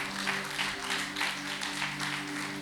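Steady, continuous applause from a church congregation, a dense wash of clapping hands with no pauses for the whole stretch.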